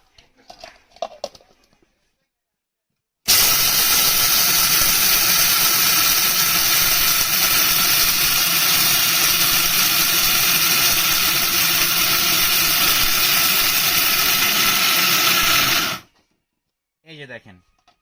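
A loud, steady grinding whir of a steel blender's motor grinding chickpeas runs for about twelve seconds, starting and stopping abruptly, with brief quiet sounds before and after.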